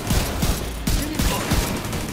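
Gunfire in the video game The Division 2 cracks out in a quick series of sharp shots over a dense, noisy game background, with no voices.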